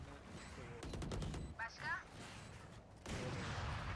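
Gunfire in a Valorant match played as Omen, a burst of rapid shots up front and another burst near the end, with game effects and a talking player over the top.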